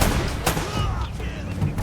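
Rapid gunfire from a first-person shooter video game crackles in quick succession, loud and close, with a sharp burst standing out early.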